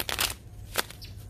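A deck of playing cards is sprung and shuffled by hand, giving a short riffling crackle followed by a single sharp flick, close and brief with no voices.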